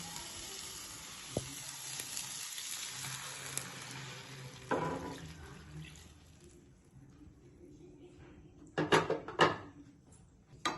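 Water left from soaking apricots pours into a hot pan for apricot halwa, starting with a sizzling hiss that fades, followed by a few sharp clinks and splashes near the end.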